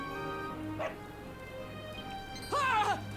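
A dog in Dragon Quest XI gives a faint yip, then a louder whimpering bark-like call near the end, over a steady low game hum.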